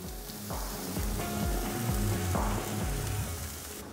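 Garlic, ginger and green onion fry in avocado oil over medium heat, a soft continuous sizzle with faint crackle, steady and moderately quiet, while low tonal background sound drifts underneath.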